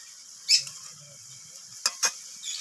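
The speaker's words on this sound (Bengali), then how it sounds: "নোটে শাকগুলো আমি এইভাবে খুন্তি দিয়ে একটু সব কিছুর সাথে নাড়িয়ে চাড়িয়ে দিচ্ছি" Washed noțe greens being stirred with a spatula in a pan for a village-style bitter gourd and greens chorchori: a few brief, close scraping strokes over a faint low simmer.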